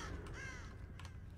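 A crow caws faintly in Dead by Daylight, one short raspy call over a quiet background.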